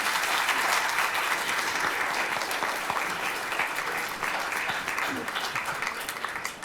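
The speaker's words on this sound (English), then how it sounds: "please give a round of applause for our panelists" Audience applause for panelists at a homelessness summit, steady dense clapping from a crowd filling the room at an even level throughout, tapering only slightly near the end.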